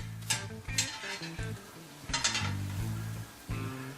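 Hot oil sizzles and crackles in a pan ready for frying a breaded pork tenderloin, with close, intermittent scraping and clinking of a utensil against the pan over the steady frying hiss.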